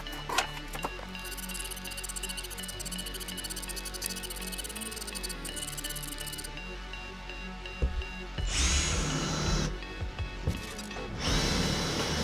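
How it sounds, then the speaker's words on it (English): A countersink bit drills recessed holes into a wooden wasteboard for an X-Carve CNC machine, giving a steady close whirring drone for most of the clip, with the tone shifting and a few short bursts near the end. "We'll flip it over and then we'll be able to use our countersink bit to get all the holes drilled in"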